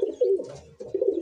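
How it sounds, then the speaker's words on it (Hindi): A Punjabi pigeon coos up close, two soft rolling phrases of low throaty cooing separated by a short pause, with no other sounds. "ये पंजाबी कबूतर है"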